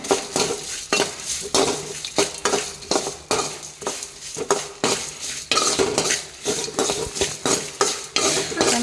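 Pathrode ingredients, with turmeric and sour tamarind added, are stirred and mixed in a pan, with repeated scraping and clinking of a utensil against the metal in a steady, lively rhythm close by.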